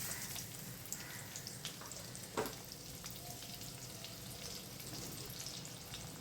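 Chopped onion frying in a pan, a soft continuous sizzle with light crackles and one brief clink of a utensil, quiet and close with no talking.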